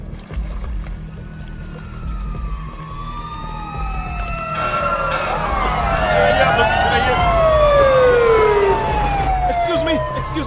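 Fire engine sirens wail at a burning building, several overlapping sweeping tones rising and falling, loud and growing stronger toward the end over a low rumble of traffic and engines.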